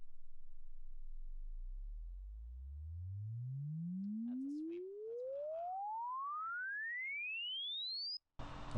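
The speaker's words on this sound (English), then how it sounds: "Let's see if there is a sine tone generator on here." A sine tone from a tone generator sweeps smoothly upward from a low hum to a high whistle over about eight seconds, steady and pure, then cuts off abruptly.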